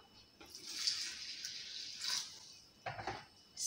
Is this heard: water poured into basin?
yes